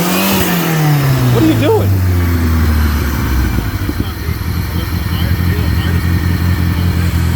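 A 1989 Shelby Daytona engine, chained to a skid steer and running on 14-year-old gas, revs loudly up and then settles into a steady, rough drone close by, with a person speaking briefly over it.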